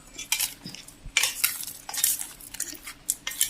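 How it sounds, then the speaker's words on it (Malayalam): A spoon stirs chili, coriander, chicken masala and black pepper powders together in a metal dish, giving repeated scraping and clinking strokes in an uneven rhythm, close and fairly clear with no talk. "മുളക് പൊടി മല്ലിപ്പൊടി ചിക്കൻ മസാല കുറച്ച് കുരുമുളക് പൊടി എല്ലാം കൂടെ ഒന്ന് മിക്സാക്കി വെക്കാം"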